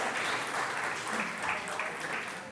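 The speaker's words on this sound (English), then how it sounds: "Give yourself some applause." A church congregation applauds in a nearly full sanctuary during a morning service, a steady, moderately loud wash of clapping that continues without a break.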